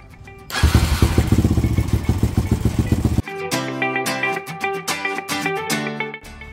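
A Kawasaki KLX150 motorcycle with a budget aftermarket starter motor cranks and fires up. Its loud, close, rapid engine chatter lasts about three seconds, then music takes over.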